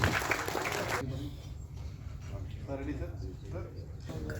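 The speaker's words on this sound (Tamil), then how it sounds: "பலத்த கைத்தட்டல் கொடுத்துடலாம்" An audience at a film audio launch event gives loud applause to welcome a producer to the stage, a dense burst of clapping in the first second that quickly fades into talk.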